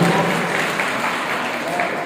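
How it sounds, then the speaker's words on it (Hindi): A poetry gathering's audience applauds as a poet is called up to recite, a loud, dense, even wash of clapping from a full hall that carries steadily throughout. "आपकी तालियों में"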